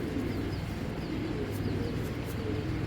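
Tournament racing pigeons coo repeatedly in a loft, with soft low rolling calls over a dense background of many birds, while a few faint high chirps flicker above.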